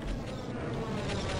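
Bees buzz in a video game, a steady, close insect drone with a faint wavering quality that continues without a break, and no talking over it.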